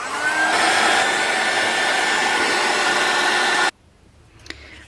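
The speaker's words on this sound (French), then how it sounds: "je vais accélérer un petit peu le séchage avec mon heat gun" A heat gun blows steadily and loudly while drying a mixed media artwork, a constant broadband whoosh with a faint whine that cuts off abruptly near the end, leaving quiet room tone and a small click.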